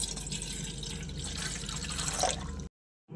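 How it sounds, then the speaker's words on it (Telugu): A glass of water poured into a cooking pot for semolina (sooji) upma pours in a steady close splash for under three seconds, then stops abruptly. "ఒక గ్లాస్ వాటర్ తీసుకోవాలి"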